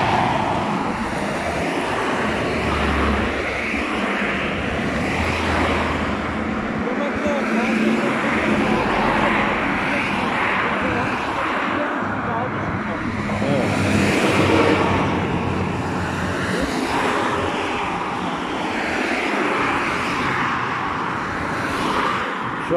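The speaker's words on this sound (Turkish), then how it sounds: "yoğun bir araba gürültüsü" Heavy car traffic on a busy road near Küçük Esence, a steady loud roadway roar with passing vehicles swelling and fading, while a person talks over it.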